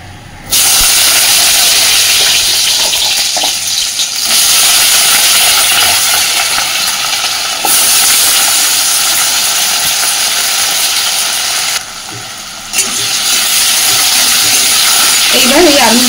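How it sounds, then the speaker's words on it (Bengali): Black cumin seeds and small diced potatoes hit hot oil, giving a loud, steady hiss of sizzling that runs almost unbroken, with brief dips where the frying quiets for a moment. "এবার ফোড়নে দিচ্ছি কালো জিরে আর দিচ্ছি ছোট ছোট করে কেটে রাখা আলু।"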